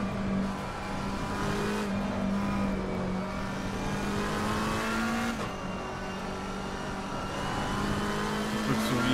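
A McLaren 720S sports car engine roars steadily with a droning high-revving tone in a racing video game, shifting pitch slightly, loud and continuous with no talking.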